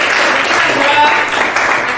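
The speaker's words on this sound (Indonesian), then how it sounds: "Kasih tepuk tangan." Classroom applause, a brief burst of many hands clapping together, fairly close and steady for a couple of seconds.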